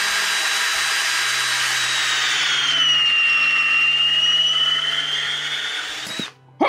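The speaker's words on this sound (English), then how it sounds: "I was drilling a hole for this hook" Power drill boring a hole for a hook, a steady high whine held close for about six seconds with a slight dip in pitch midway, stopping abruptly with a short knock.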